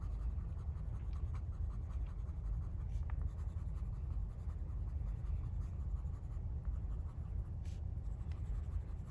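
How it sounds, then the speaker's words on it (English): A colored pencil shades in the background on paper around a drawn sphere, alternating sharp point and flat side, producing a soft, continuous scratchy rasp with small strokes and pauses, quiet and alone. "You can rotate between using a sharp point of your pencil versus the flat part of your pencil."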